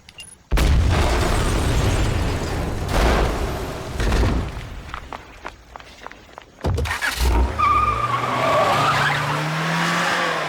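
A rally car in a 007 Bond video game roars and skids through Peruvian village streets, loud engine and tire squeal with heavy sliding bursts, a sharp impact midway, then revving engine with rising whine continuing, no speech.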